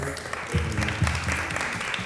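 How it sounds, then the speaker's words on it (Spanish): An audience at a book fair talk on artificial intelligence gives a short round of applause for a speaker, moderate and fairly close, with a voice faintly underneath. "un aplauso para Ramiro y gracias"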